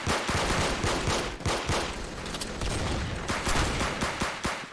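Rapid video-game gunfire from a gun in Roblox, a dense string of sharp shots firing almost continuously at close range, loud throughout with brief gaps and no talking.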